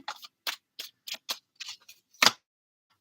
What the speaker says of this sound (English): Let's get a good shuffle in for Virgo romance